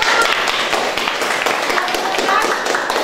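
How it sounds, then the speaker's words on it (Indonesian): Students in an Indonesian classroom clap irregularly for a classmate about to present, with loose claps and taps mixing with voices talking throughout. "Beri tepuk tangan dulu"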